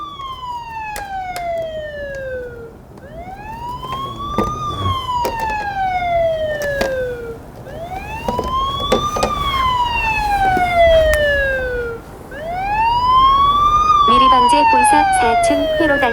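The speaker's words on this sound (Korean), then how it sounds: "현재 휴대폰에서 지금 사이렌 소리가 나오면서" A loud electronic siren from a mobile phone wails, rising and falling in long, repeating sweeps, with occasional clicks and a faint background hum, alerting to a fire alarm circuit short.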